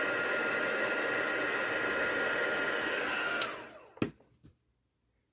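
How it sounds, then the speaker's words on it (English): A heat tool blows steadily while melting embossing powder, a loud even whirring hiss that winds down after a few seconds, followed by a couple of clicks and a brief word from a speaker. "I love to see this turn when the embossing powder heats up."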